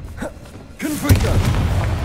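A Confringo fire curse explodes in Hogwarts Legacy, a sudden booming blast that follows a short spoken exclamation and then rumbles on loudly.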